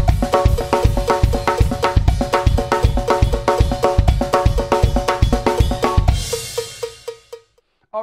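Full drum kit with bass drum and snare playing a brisk sixteenth-note groove with accented groups of three, loud and close, ending on a crash cymbal that rings out and fades.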